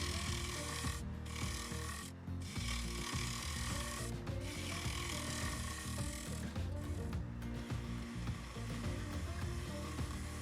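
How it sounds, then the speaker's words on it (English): A tool shear scrapes a birch bowl turning on a wood lathe, making a loud, close, continuous rasping hiss with brief dips as the tool lifts off the wood. "I'm shear scraping right now to get the final shape and a smooth surface."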